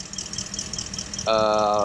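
A 2014 Ford F-150 SVT Raptor engine rumbles steadily at idle, then a louder, throaty engine tone kicks in and holds, close and continuous, with no knocking.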